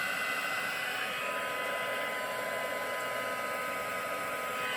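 A heat tool blows hot air over embossing powder on a luxury Christmas card, making a steady, close, airy roar that holds level throughout with no voices.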